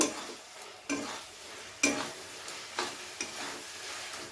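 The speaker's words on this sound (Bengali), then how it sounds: "তো এবারে সমস্ত মশলাকে খুব ভালো করে কষিয়ে নেব" Spice masala with roasted cumin powder being stirred and fried in a pan for a katla fish curry, soft sizzling broken by several distinct scraping strokes of a spoon against the pan.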